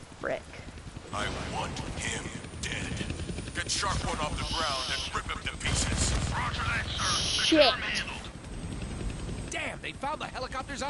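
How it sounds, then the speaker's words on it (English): An attacking helicopter in the Deadpool video game drones under gunfire and explosions during a fight, with a voice talking over much of the din. "you can't hijack a chopper while it's flying around trying to turn you into shredded cheese?"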